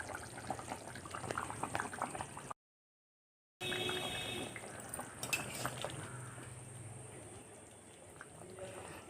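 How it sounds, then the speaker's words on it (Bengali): Potatoes boil in water in a covered pot: a continuous close bubbling hiss with occasional light metallic clinks. The sound drops out into silence for about a second partway through, then the bubbling resumes. "যে এবার ঢাকা দিয়ে দেব, আলুটা সেদ্ধ হওয়ার জন্য ছেড়ে দেব"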